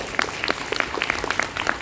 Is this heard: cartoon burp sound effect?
no